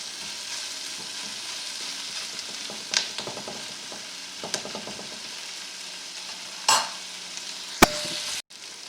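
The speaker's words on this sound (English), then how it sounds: "I get my peppers on the bottom along with the onions, so that everything is evenly browning" Peppers and onions browning together in a pan for fajitas give off a continuous close sizzle, broken by scattered stirring scrapes and a few sharper clatters of a utensil.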